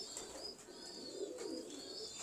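Pigeon, a sturdy Teddi kabootar, cooing softly amid steady background noise, a low gentle murmur blending with faint higher chirps.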